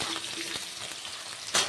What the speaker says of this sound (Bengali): আলু দিয়ে দিলাম তেলে। এবার আলুগুলোকে ভালো করে ভেজে নেব।